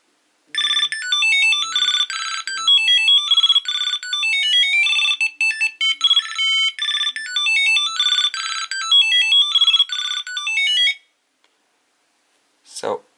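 A Tile Bluetooth tracker plays its bright, high-pitched electronic alert melody, a busy looping tune of rapid chirpy notes lasting about ten seconds, loud and close, then stopping abruptly before a brief rustle.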